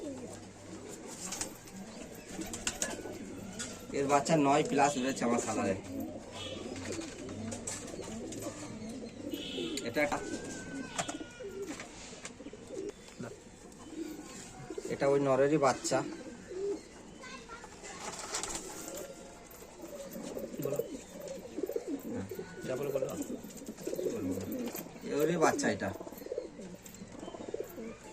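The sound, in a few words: Saharanpuri pigeon cooing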